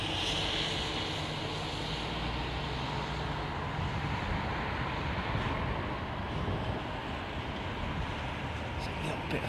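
Aircraft landing at London Heathrow Airport in heavy snow, heard as a steady, broad engine roar that holds at one level throughout with no clear rise or fall.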